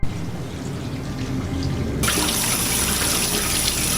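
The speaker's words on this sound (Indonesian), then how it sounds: "mendengar suara keran yang terbuka di lantai 2" A water tap in a film turns on suddenly midway, its running stream loud, steady and close, after a quiet room tone.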